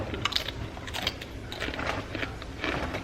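Crisp snacks dipped in a homemade dip of hot sauce, Greek yogurt, ranch and taco seasoning, crunched and chewed up close in several irregular bites, with no talking.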